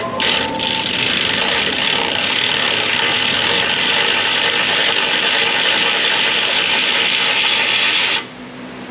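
A ratchet with a swivel socket turns a rusted exhaust bolt, a loud, fast, continuous metallic clicking that runs close-up for about eight seconds before stopping abruptly.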